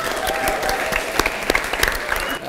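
Applause from a comedy debate audience in a hot, crowded hall, a dense steady roar of many hands with a few sharper claps standing out, tapering slightly at the end.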